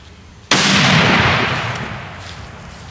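Muzzleloader rifle firing a 280-grain Powerbelt ELR bullet outdoors, one sudden loud report after a quiet start, then a long rolling echo that fades slowly over the following seconds.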